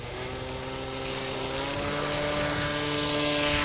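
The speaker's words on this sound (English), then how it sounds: "Oh, that flies good. That's a simple plane." A radio-controlled model plane powered by an OS FX .61 engine flies overhead, its engine a steady buzzing drone with a clear pitch that slowly grows louder as it comes nearer, with no talk over it.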